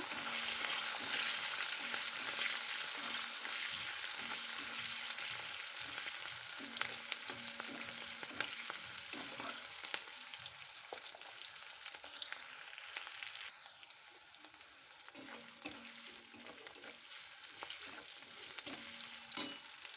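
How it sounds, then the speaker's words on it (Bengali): Green chillies and salt frying in a pan with cardamom, giving a soft steady sizzle with occasional stirring scrapes, fairly quiet and close, no voices. "কাঁচা লঙ্কা দিচ্ছি লবণ দিয়ে দিচ্ছি নেড়ে চেড়ে দিব"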